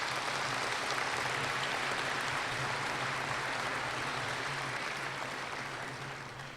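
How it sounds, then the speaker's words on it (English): A commencement ceremony audience applauds steadily in a large hall, a dense continuous wash of clapping at moderate level that holds for several seconds before easing slightly at the end, with no talk over it. "Let's give all these folks a round of applause."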